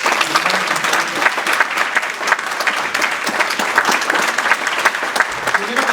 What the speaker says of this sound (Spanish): Dale gracias a Dios con un aplauso.